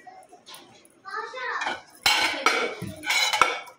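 Plates, dishes and cutlery clink and clatter as food is served at a family dinner gathering in a niece's home, in short irregular bursts with voices and a child's speech mixed in nearby.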